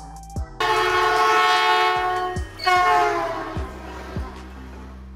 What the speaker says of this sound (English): Double-decker train. A train with two levels of passenger seating